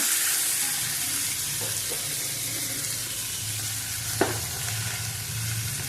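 Lemon pieces fry in a pan for an Onam lemon pickle, giving a continuous, even sizzle with a low background hum and one brief clink near the end; close, no speech.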